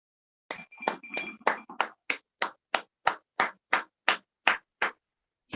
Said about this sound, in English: give a big round of applause for John Wesick